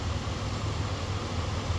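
A car engine that is not fully warmed up idles unevenly and roughly because of a misfire, giving a steady, low, rumbling hum close by with no talk over it.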